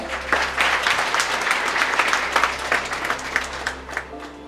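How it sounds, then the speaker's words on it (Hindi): A seminar audience applauds loudly for a top-ranked student, a sustained, dense round of clapping from many hands filling the room for several seconds. "पहले तो इस बच्चे के लिए जोरदार तालियां"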